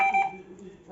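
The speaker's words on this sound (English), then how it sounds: "You will hear only one beep." A Hikvision DS-KIS602 intercom card reader with keypad module gives one short, clear electronic beep as a card is tapped, close by, followed by quiet room noise.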